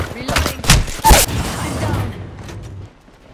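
Several rapid bursts of gunfire in Apex Legends, sharp close shots clustered in the first half, then a fading rumble trailing into quiet.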